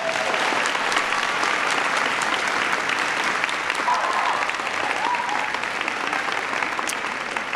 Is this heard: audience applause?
yes